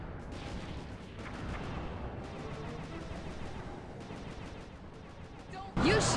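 Rapid repeated gunfire in the Sly 2: Band of Thieves video game finale, bursts of sharp shots in quick rhythmic volleys mixed with game effects, ending in a louder sudden burst.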